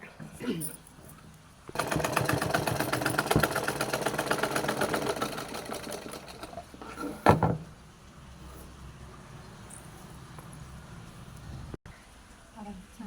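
A sewing machine stitches a neck seam in a fast, even mechanical rattle that runs for several seconds, close and fairly loud, with a voice talking before and after.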